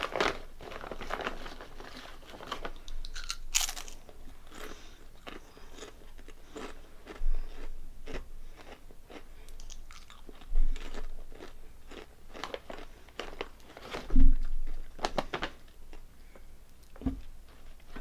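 Calbee Honey Butter potato chips being crunched and chewed up close, with sharp irregular bites and softer chewing between them, plus occasional crinkling of the bag, and no talking.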